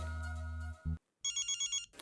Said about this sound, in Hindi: अरे अब्दुल भाई का फोन है, लगता है शायद पहुंच गए